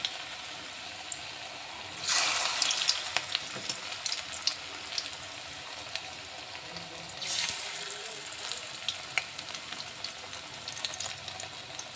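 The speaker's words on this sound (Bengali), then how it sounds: "এবার আমি একটা একটা করে বড়াগুলো ভেজে নেব।" Fritters made from drumstick flowers are dropped one by one into hot oil in a wok. Two loud bursts of crackling sizzle rise as each goes in, then settle into a quieter, steady frying hiss.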